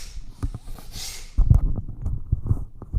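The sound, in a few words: forceful breathing in and out through nose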